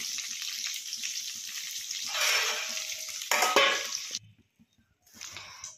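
Fish pieces frying in oil in a wok for a Bengali curd-fish dish, a steady loud sizzle with stirring and scraping, rising in bursts, then briefly cutting out before the sizzling resumes.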